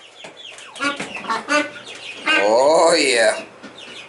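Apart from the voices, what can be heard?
homestead chickens clucking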